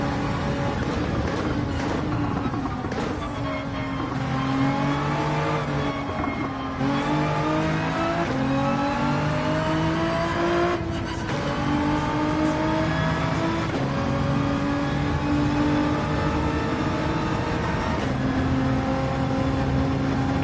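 Gran Turismo 7 race car engine, a GT4 car on a hot lap, droning loud and continuous with repeated pitch climbs and sharp drops at gear shifts; tires faintly squeal.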